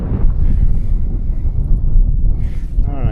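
Strong wind in the Norwegian wilderness during a snowshoe trek, buffeting the microphone with loud, rumbling gusts throughout, close and constant.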